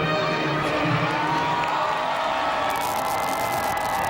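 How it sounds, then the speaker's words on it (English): A huge inauguration crowd cheering on the National Mall in Washington, a dense, distant roar of many voices that holds steady throughout, with no single voice standing out. "I'm looking out at this picture, and it is a huge, huge crowd"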